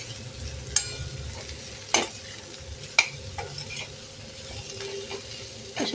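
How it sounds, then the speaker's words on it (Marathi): Katole wild vegetable sautéing in hot oil, a soft continuous sizzle broken by a few sharp scrapes and taps of a spoon against the pan, with no talking. "अशा तेलात छान परतून घ्यायचे आपल्याला."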